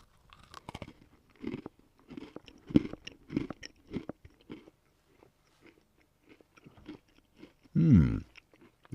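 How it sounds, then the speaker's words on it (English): A half-eaten crunchy gingerbread biscuit is chewed close to the microphone, with a series of crisp, irregular crunching bites followed by a short breathy exhale near the end. "It's a half-eaten gingerbread biscuit. And it's got a quite a good crunch."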